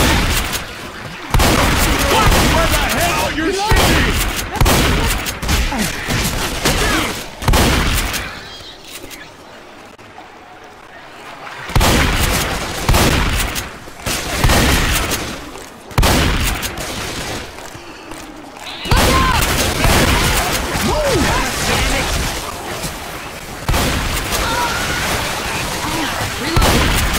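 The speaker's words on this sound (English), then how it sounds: "Where the hell are you shooting?" Dense bursts of rapid gunfire and booming shots fill Left 4 Dead 2 gameplay, nearly continuous and loud, with a couple of brief lulls and voices talking over the shooting.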